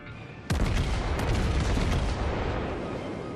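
A tier 4 American battleship, the Wyoming, fires its guns in a naval video game with one sudden heavy boom that rolls into a long loud rumbling decay.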